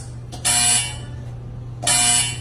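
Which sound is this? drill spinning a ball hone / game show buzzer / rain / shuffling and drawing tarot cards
game show buzzer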